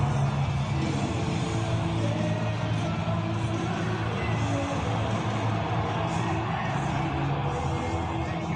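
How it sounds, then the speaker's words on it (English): Recorded crowd noise from a Trump rally as a speaker walks out: a dense, steady roar of cheering and whooping that is heard fairly far off and stays at an even level throughout. "Here's him walking out to the Trump crowd"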